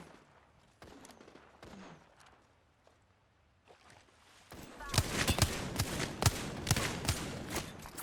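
Gunfire in the battle royale game Apex Legends: scattered distant shots early on, then a louder stretch of rapid repeated shots over the last few seconds.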